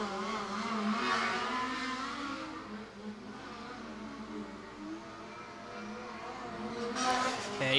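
A race car circles a weekly-racing speedway oval, its engine a distant, sustained roar that swells and fades as it comes around the track, rising again near the end.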